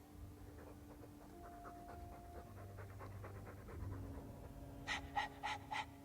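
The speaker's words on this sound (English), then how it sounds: "All that noisy dog breath, day in, day out. Make him stop." Panting dog in the Dragon Age II video game, steady rhythmic breathing throughout with a quicker burst of loud pants near the end, over low game ambience and music.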